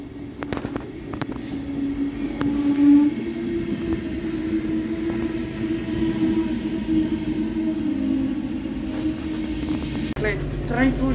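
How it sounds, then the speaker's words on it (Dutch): Metropolitan train on its farewell run, heard from inside the carriage as a steady rolling rumble with a sustained hum and scattered clicks and knocks, with talk over it. "Nu gaan we met de Metropolitan. Dus de eerste keer dat ik ermee ga, maar ook meteen de laatste keer, want deze trein gaat volgende week uit dienst."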